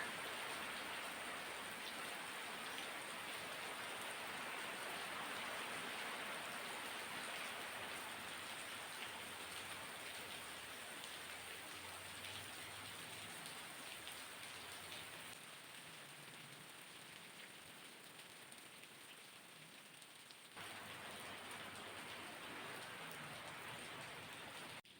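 Steady rain pours down continuously near a house in Basay, a dense, even hiss of drops on surfaces that holds at a similar level throughout with a slight dip near the end and no talking.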